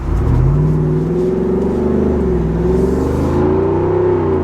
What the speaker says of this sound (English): you can really get a good feel for that exhaust note.